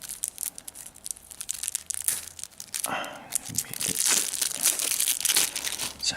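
Plastic wrap is torn and crinkled off a pack of board game cards, close and loud in bursts of rustling and ripping that build toward the end, with no talk.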